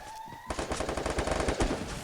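Rapid automatic gunfire in a shooting video game, a dense burst of loud, close shots that starts abruptly and runs steadily for about a second and a half with no talk over it.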